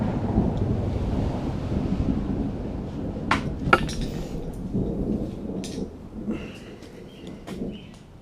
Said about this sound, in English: Some nice thunder going again.